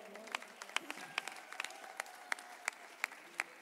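Audience applause for small children at a gospel music event, sparse and fairly distant, with individual claps popping out in an irregular rhythm over a soft crowd murmur.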